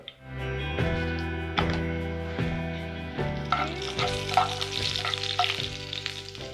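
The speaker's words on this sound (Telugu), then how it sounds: "నూనె కాగిన తర్వాత ఆకు ఒకటి, 4 లవంగాయలు, కొంచెం చెక్క, 4 ఇలాచి, 1 స్పూన్ జీరా" Whole spices (a bay leaf, cloves, cinnamon, cardamom and cumin seeds) dropped into hot oil for a Telugu gongura prawn dish, giving a loud, steady sizzle with sharp crackles and spits that intensify as more spices go in.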